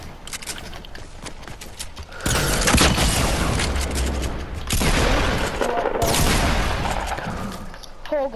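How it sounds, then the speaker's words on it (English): Shotgun blasts in a custom gun game mode of a video game: two long bursts of heavy, loud gunfire and booms after a quieter opening, separated by a brief pause. "I'm trying to shoot my shotgun"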